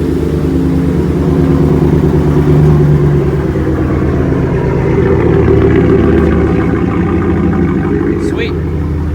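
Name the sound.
Ford F-150 engine started by remote starter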